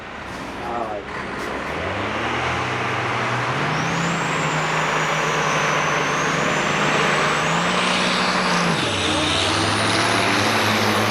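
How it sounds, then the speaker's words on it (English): A Ford big rig truck at the Onaway Speedway Great Lakes Big Rig Challenge runs steadily, its low engine drone rising and falling in pitch as it revs. A voice talks briefly near the start. "And a beautiful Ford truck."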